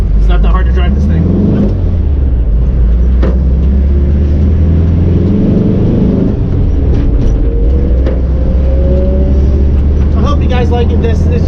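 A 1961 Volkswagen with a manual transmission drives along, its engine a steady low rumble and drone that fills the whole stretch, with a voice talking over the top of it.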